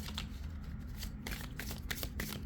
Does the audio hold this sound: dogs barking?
no